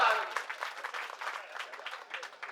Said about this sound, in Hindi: तो जरा एक बार जोरदार तालियां बजाइए